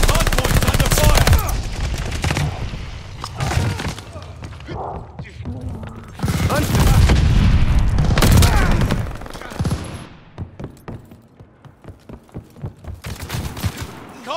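Rapid automatic gunfire and explosive bursts from an online multiplayer match of Call of Duty: Vanguard, loud and dense in repeated volleys, with game voice callouts mixed in and a calmer stretch near the end.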